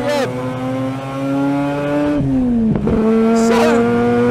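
Engine of a 1981 TWR Mazda RX7 rotary race car revving hard and loud at high RPM, holding a steady high drone, dipping briefly near the middle and then climbing again.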